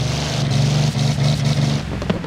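Car with a 24-litre engine in Forza Horizon 4 revving, a deep, loud, throbbing roar that pulses and dips briefly between bursts, close and continuous.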